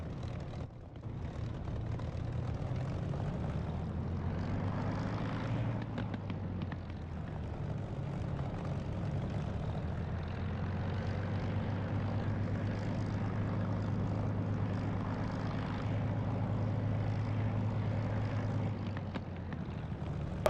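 Aircraft engine running on a runway in the DCS flight simulator, a steady low propeller drone with slowly rising and falling tone, heard alone at moderate level.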